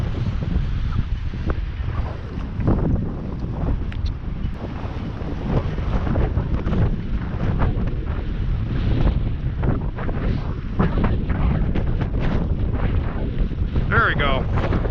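Strong wind gusts buffet the microphone on open water during crappie fishing, a steady, loud rushing roar with surging pulses throughout and faint splashing underneath.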